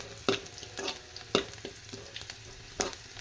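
Tempering oil crackles and sizzles in a spoon over a gas stove, bursting in several sharp spits and pops at irregular intervals over a softer background hiss, close by, with no voices.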